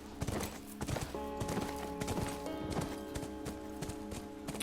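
Horse hooves clip-clop steadily in The Last of Us Remastered, a quick rhythmic run of clear, near hoofbeats over a sustained musical background, with no talking.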